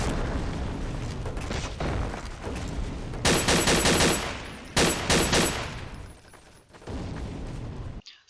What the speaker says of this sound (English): Some suppressive fire on that HMG.